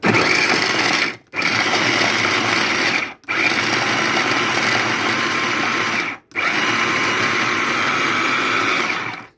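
Food processor blending kofta meat with salt for Eid hawawshi, a loud steady whirring motor run in three long bursts, cut by brief pauses between them, with no talking.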